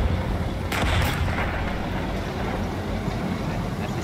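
Gunfire aimed at the player in a warfare video game, a short burst of loud blasts early on, then a steady rumbling background with no further distinct shots.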